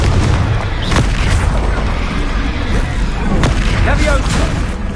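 Blasting-spell explosions in the wizarding action game Hogwarts Legacy, several booming bursts landing amid constant loud combat din, with a spoken voice mixed in.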